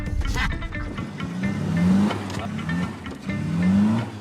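An old classic German car engine on rough roads gives a rough, rattling run with repeated revving surges and short squeals, loud and close.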